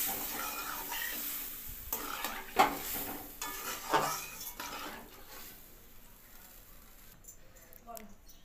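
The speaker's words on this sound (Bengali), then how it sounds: "সবজিটাকে একটু নাড়িয়ে নিতে হবে।" Vegetables of okra, pumpkin and potato stirred in a pan just after water is added, with a few close scraping strokes and soft sizzling that fades toward the end, then faint clinks.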